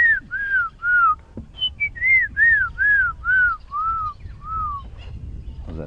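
A person whistles an imitation of a black-crowned tchagra call during an early-morning safari drive: about nine clear, descending whistled notes in a steady run, loud and close, with no talk over them.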